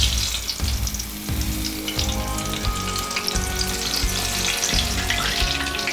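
Continuous crackling sizzle of aubergine schnitzel shallow frying in hot oil in a seasoned shallow casserole, steady and close, with no voices.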